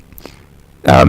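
A short burst of a deep, harsh, buzzing voice imitating a Dalek without effects, loud and close, after a moment of near silence.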